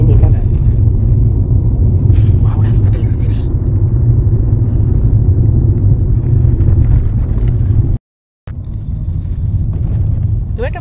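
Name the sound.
car accelerating to overtake on the road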